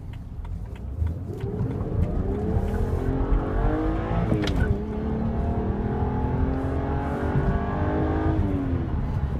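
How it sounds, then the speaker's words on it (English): A 2009 BMW 328i Touring engine revs and holds a steady, rising drone, with a quick blip in the middle before climbing again; close and loud throughout. "the engine makes a fantastic noise"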